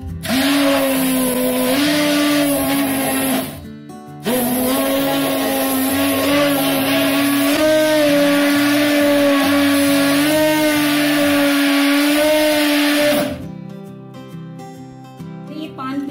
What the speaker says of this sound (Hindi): एक हैंड मिक्सर से इसको मिक्स कर लेंगे